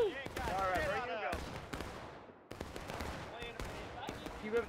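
Musket volleys crack repeatedly in the multiplayer Civil War game War of Rights, with sharp shots layered over distant gunfire and a voice speaking between the bursts.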